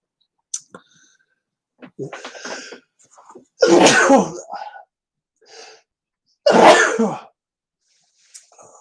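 Two loud, sharp sneezes a few seconds apart, each preceded by small breaths and sniffs, with brief quiet gaps between.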